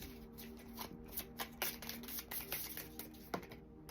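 Thin tarot cards being shuffled by hand, a run of soft, quick riffling taps and flutters with a few sharper snaps, close and fairly quiet with a faint steady tone underneath.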